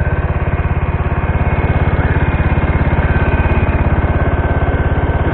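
A 1974 John Deere 140 H3 garden tractor engine chugging steadily while dragging logs, a loud, close, rapid low pulsing throb that holds constant throughout without talk.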